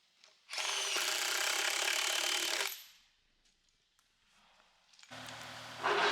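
Cordless impact drivers working on rail track installation, fastening hardware along the line, with a sustained loud whirring burst of about two seconds, a quiet gap, then a second burst starting.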